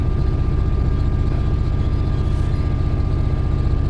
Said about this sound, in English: Engine is revving away.